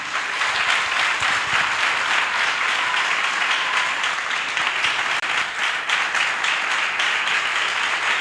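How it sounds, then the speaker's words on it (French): A church crowd at a Christian gathering in Benin claps and cheers in loud, dense, sustained applause that runs without a break from start to finish, with no clear speech. "Acclamation à Jésus-Christ."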